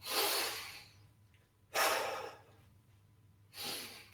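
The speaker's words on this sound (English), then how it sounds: "I'm going to use the in breath. I'm emphasizing the in breath." Three deep, emphasized in-breaths taken during shiatsu self-treatment, each a long airy inhale that is close and fairly loud, separated by quieter pauses.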